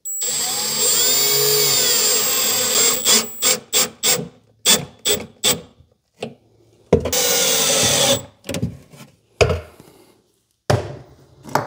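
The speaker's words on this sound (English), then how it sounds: "we're going to use our punched holes to drive these screws where they need to be" A power drill drives screws into a wooden shop chest of drawers, with a long loud whirring run followed by a series of short bursts and pauses, then another sustained run and a few more brief spurts, close up with no talk.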